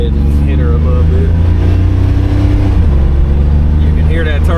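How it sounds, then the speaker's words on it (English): A 1987 Buick Grand National accelerates with a loud, close engine roar and a rising turbo spool whine, with someone talking over it. "You can hear that turbo going"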